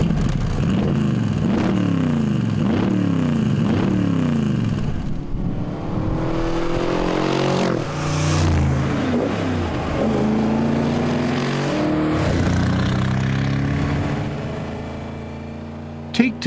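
A Bizzarrini GT 5300, a lightweight two-seater with a rear-set V8, roars steadily as it revs and pulls through gears, its loud engine note rising and falling across the whole stretch.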